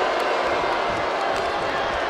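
A WWE 2K24 arena crowd roars in a dense, continuous wash of cheering and chatter during a women's championship tournament match, loud and sustained throughout with no breaks.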